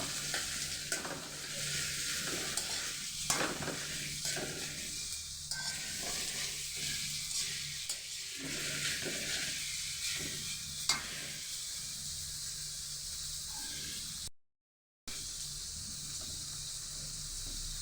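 Fried rice being stirred in a frying pan, a steady sizzle of frying with repeated scraping strokes of the spatula throughout, close and fairly loud, with a brief dropout near the end.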